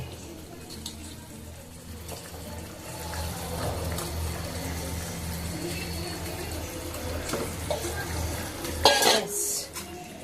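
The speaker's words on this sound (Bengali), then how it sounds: "এখানে আমি আলুগুলো সব দিয়ে দেব।" Potatoes going into a pot of boiling gravy for Kashmiri dum aloo, with soft stirring, a simmering bubble and a few clinks of utensil against the pan, quiet and close, a louder clatter near the end.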